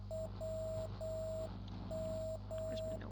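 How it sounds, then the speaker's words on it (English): Morse code signal on a radio: a steady tone keyed into dots and dashes at an even pace, sitting over a constant low hum and faint static hiss, with no voices. "Okay, so this one is Morse code."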